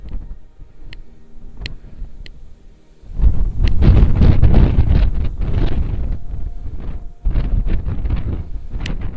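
After a few quiet seconds with faint clicks, a powerful gust hits and loud wind roars against the microphone on Adak Island in the Aleutians, gusting on and off.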